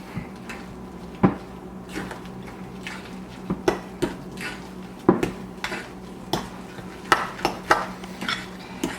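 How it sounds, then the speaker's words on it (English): A fork scrapes and clinks against a glass bowl while potatoes and shredded cheddar are mixed, giving a series of sharp, uneven taps and scrapes, close up and with no talk. "Oh, did you hear the fork on the bowl?"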